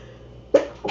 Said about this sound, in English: I'm over the sneezes this morning